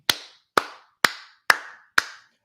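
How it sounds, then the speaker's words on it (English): Five sharp, evenly spaced hand claps sound about half a second apart, crisp and isolated against silence, with no crowd or voices around them. "Round of applause for Mark."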